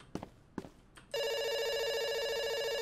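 After two soft footsteps, a telephone in the video game Dr Langeskov starts ringing with a steady, continuous electronic trill, clear and fairly loud.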